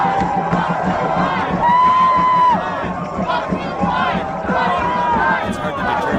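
A crowd at an Occupy protest shouts and chants loudly and continuously, many voices overlapping in an energetic, close roar with occasional whoops rising above it.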